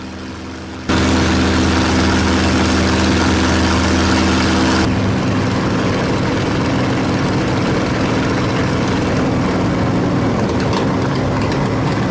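A loud P-51 Mustang piston engine drones steadily while landing, its low throbbing note shifting after a few seconds into a rougher, lower rumble that continues to the end.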